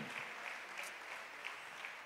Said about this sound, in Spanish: Demos un aplauso al maestro en esta hora